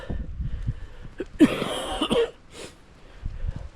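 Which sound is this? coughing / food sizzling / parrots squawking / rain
coughing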